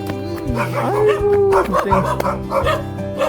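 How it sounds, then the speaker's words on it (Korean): Several dogs bark and yip in short overlapping bursts with whimpering whines between, close and loud, while a person speaks among them. "아이 강아지들 이렇게 많아"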